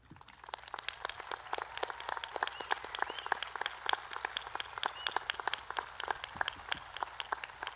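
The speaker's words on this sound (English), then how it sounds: "please stand for a round of applause" Sustained audience applause at a high school graduation ceremony, a dense, steady wash of many hands clapping from start to finish with no talk over it.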